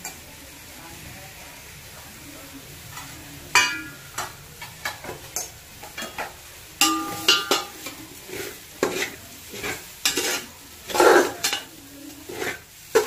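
A metal spoon stirs and scrapes turmeric and masala in a sizzling pan for soya biryani, with irregular clanks against the pan and a low frying hiss between the strokes.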